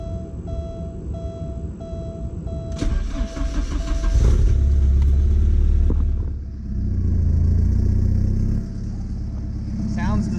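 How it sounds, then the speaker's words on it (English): A Porsche 944 with a leaky, punched-out catalytic exhaust cold-starts on a hot day, cranking briefly before catching into a loud, rough idle close by, with someone talking beforehand. "let's do a cold startup, even though it's a very hot day, on a very leaky 944 exhaust"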